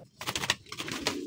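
Pigeons coo softly at close range in a breeding loft, a continuous low, throaty burbling with rhythmic pulses and no voices over it.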